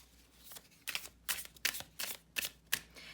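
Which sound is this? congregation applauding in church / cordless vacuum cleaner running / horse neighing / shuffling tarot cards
shuffling tarot cards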